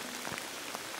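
Steady rain falls outdoors during a landscape photography outing, a soft constant hiss with faint scattered drops and no voices.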